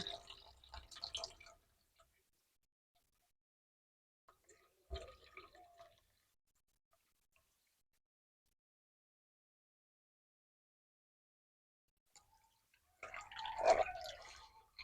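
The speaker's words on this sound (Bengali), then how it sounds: "এই জামের মধ্যে আমি ছেঁকে নেব ছেঁকনি দিয়ে" Homemade watermelon juice drips through a kitchen strainer in short, quiet bursts: a brief trickle at the start, a single splash midway, then a louder pour near the end, with long silent gaps between.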